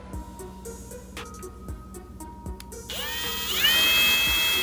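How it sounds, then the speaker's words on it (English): A few short taps and clicks, then a power drill whirs up and keeps spinning loudly near the end while drilling a hole in a Nissan G37 headlight housing. "where I'm gonna go ahead and drill it"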